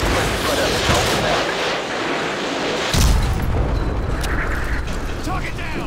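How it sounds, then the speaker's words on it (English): A Predator missile strike in Call of Duty lands as a heavy explosive boom about midway, following a rumbling, noisy battle din and giving way to a lingering crackle and debris. "Predator missile now"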